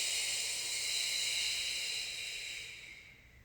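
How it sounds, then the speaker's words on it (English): A long, steady breathy exhale during a prenatal Pilates exercise, close and airy, holding evenly before fading out at the end, with no talk over it. "Exhale as we hug and lift."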